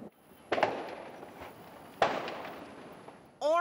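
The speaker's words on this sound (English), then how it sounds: "you could hear these popping noises that sounded like small explosions" Two sharp pops like small explosions, a second or so apart, from about 400 stacked cars burning in a large recycling-yard fire in New Orleans' Lower Ninth Ward, heard at a distance over a low outdoor rumble.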